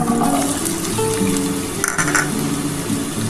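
Potatoes dropped into hot oil in a pan give a steady, loud hiss and sizzle that goes on without a break, with light bubbling crackle on top and no talking.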